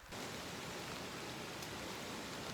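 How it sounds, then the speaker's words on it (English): Steady, dense hiss of heavy rain mixed with sleet and hail falling outdoors on a trek toward Machu Picchu, an even wash of sound throughout with no voices. "We've had sleet, hail, tons of rain"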